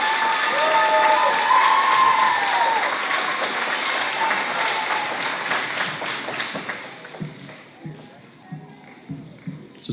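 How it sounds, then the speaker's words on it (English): Loud audience applause at a school bluegrass band spring concert fills the room, then thins out into scattered claps and shuffling as it fades. "Please give them a huge round of applause."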